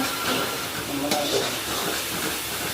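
A biryani mixture is stirred in a hot pan, a close, continuous sizzling hiss with rustling scrapes of the spoon through the food.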